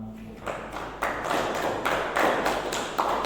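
A class applauds after a junior-high math micro-teaching lesson, giving a short run of fairly quiet, evenly spaced claps and taps in a room, with no talking over them.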